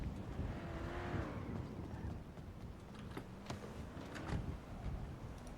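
A car driving in the video game GTA, engine revving with rising and falling pitch sweeps, accompanied by sharp clicks and taps like keyboard presses throughout, moderately quiet.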